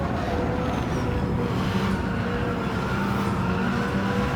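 Hypercar in Gran Turismo 7 racing through the Porsche S's, a constant loud engine roar with faint tire noise and a car passing, no voices.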